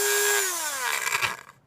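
A power tool whirs while smoothing the inside of a hole drilled in a flute, its steady whine winding down in pitch before it rattles to a stop.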